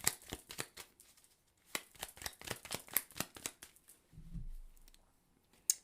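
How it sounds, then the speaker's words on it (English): Close, crisp shuffling of a tarot deck, a run of quick papery slaps and flicks, then a soft low bump as a card is drawn and set down, fairly quiet. "So let's pull a clarifying card for the Chariot"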